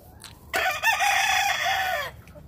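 A Lacy Roundhead brood cock crows once, loud and close: a single drawn-out cock-a-doodle-doo lasting about a second and a half, standing clear of the quiet yard around it.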